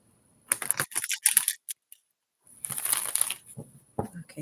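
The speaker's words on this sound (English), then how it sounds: "Shuffle them up a little bit more." Tarot cards are shuffled in two bursts of crisp, rapid riffling and rattling, close and loud, separated by a short pause.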